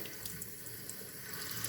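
Tap water runs in a steady, soft stream while a phalaenopsis orchid is watered, a faint continuous splashing hiss at a sink with no speech.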